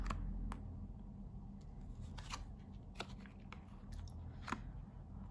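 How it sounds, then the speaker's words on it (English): Tarot cards are pulled out and handled in a quiet room, giving soft papery shuffles and several sharp little snaps and flicks that repeat irregularly over a low, steady background hum. "Let me just get all the cards out."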